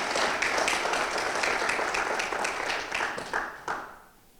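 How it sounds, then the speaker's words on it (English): Audience applause at a school graduation ceremony, a broad wash of many hands clapping steadily before thinning out and fading near the end. "Please, a round of applause."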